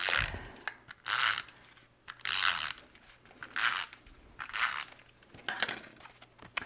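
A Snail adhesive tape runner clicks as it lays glue during card making, heard as repeated bursts of dry ratcheting clicks in an uneven rhythm, close and fairly quiet, with no talking.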